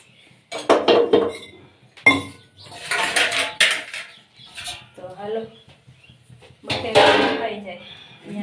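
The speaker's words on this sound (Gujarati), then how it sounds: "જો મમ્મીએ વાસણ ગોઠવી રહ્યા છે" Pots, pans and steel utensils being set out in a home kitchen, with a pressure cooker nearby, clinking and clattering in scattered bursts among nearby talking voices.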